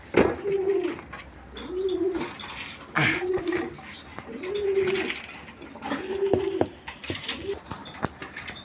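Afsani Girijal pigeons coo in repeated low, rolling calls spaced a second or two apart, faint and nearby, with a few sharp clicks and light rustles between them.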